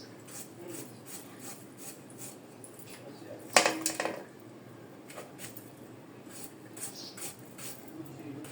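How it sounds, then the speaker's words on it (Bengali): A knife slices raw tomatoes for a salad on a board in a home kitchen, with soft repeated rasping cuts and one sharper clatter midway, close and fairly quiet. "আমি টমেটোগুলো কেটে নিতেছি"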